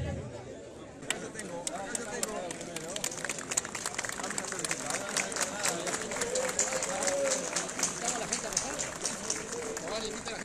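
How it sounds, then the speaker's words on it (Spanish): Audience applause for a pastry workshop team at a terminal inauguration ceremony: a dense, steady crowd clapping that lasts the whole stretch, with murmuring voices underneath. "nuevamente el aplauso para la gente del taller de pastelería"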